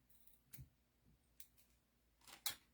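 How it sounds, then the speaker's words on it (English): A few quiet, isolated snips of ribbon scissors cutting ribbon, three sharp short bursts spaced apart in near silence. "There's my ribbon scissors."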